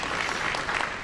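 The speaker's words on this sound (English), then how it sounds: "applause" Audience applause at a press conference in Chicago, a brief dense wash of clapping from a roomful of people, steady and fairly loud.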